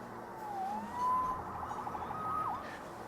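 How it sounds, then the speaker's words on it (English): Police siren in the Spider-Man PS4 video game, a wailing tone sweeping up and down at moderate distance over a low background rumble of game ambience. "Saved by the siren."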